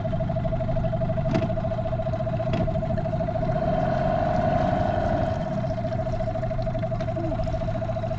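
A small sailboat's outboard motor runs steadily in reverse with a constant mid-pitched whine and low rumble, close by, no talking over it.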